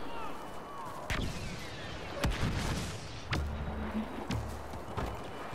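Missile launches and blaster fire in Star Wars Battlefront's Walker Assault mode, several sharp separate bangs spaced about a second apart over a busy battlefield din, fairly faint overall.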